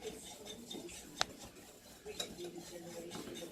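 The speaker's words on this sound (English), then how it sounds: "Give them a good mix together like that" Flour and baking powder are stirred together in a mixing bowl, giving faint soft scraping and rubbing with one sharp clink of utensil on the bowl, quiet and close.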